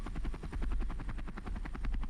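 Helicopter in the Men of War Assault Squad 2 video game, a steady, loud rotor thump with pulsing blade beats and engine drone, heard alone without talk.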